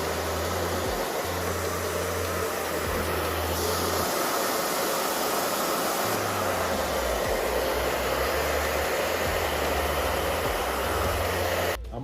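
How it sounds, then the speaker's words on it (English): A small hair dryer blows steadily and loudly at close range for several seconds while heating a car spoiler during an install, with a constant airy whoosh and motor hum that cuts off at the end. "Just got a little hair dryer."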